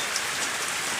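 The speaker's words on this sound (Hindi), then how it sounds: "फिर सुबह से बारिश हो रही है" Heavy monsoon rain pours down steadily in an Indian village after a night and morning of downpour, a dense, loud, unbroken hiss of drops with no voices.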